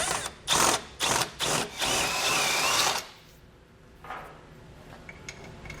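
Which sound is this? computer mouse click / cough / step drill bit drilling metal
step drill bit drilling metal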